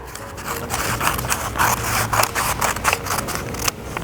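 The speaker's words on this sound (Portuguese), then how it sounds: "Vou pegar a tesoura e vamos recortar." Scissors cut paper along a dotted line with a crisp series of snips and scraping rustles, close and continuous for several seconds, with no talking.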